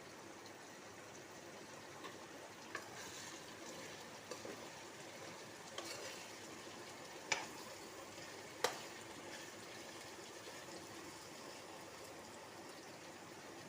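Ivy gourd pieces frying in oil in a pan, a faint, steady low sizzle with a few sharp pops and clicks scattered through it.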